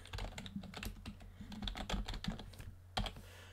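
Code being typed on a computer keyboard: a fast, continuous run of clicky keystrokes with occasional heavier taps, up close and alone with no voice.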